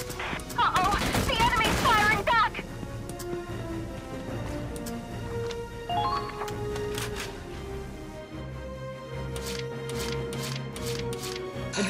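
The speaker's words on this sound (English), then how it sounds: "Ah, they're firing at me!" Battle fire in Valkyria Chronicles 4, a loud volley at the start followed by scattered sharp shots over a steady background score, with a voice shouting over the action.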